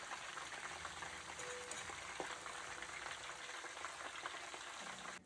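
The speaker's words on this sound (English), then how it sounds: "as the water is boiling, you can add one of this" Water bubbles and hisses quietly in a pot, a faint, steady crackling and simmering with a brief tonal hum midway.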